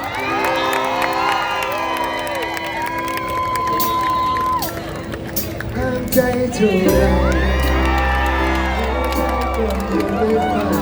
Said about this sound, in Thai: ขอเสียงรีดดัง ๆ เสียงปรบมือดังต้อนรับ